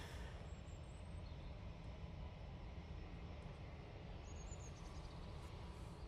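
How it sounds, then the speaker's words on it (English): A Virgin Atlantic Airbus A330 taxiing at Manchester Airport, a steady, loud low engine rumble and whine that holds constant with no voices. "To Montego Bay and the Virgin A330 now on the taxi."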